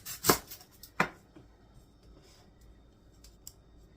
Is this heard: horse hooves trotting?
no